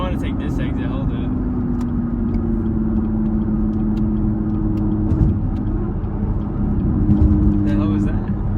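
Chevrolet Camaro engine droning loud and steady from inside the cabin while driving, a constant low rumble with a sustained tone running throughout, and another car briefly audible near the end.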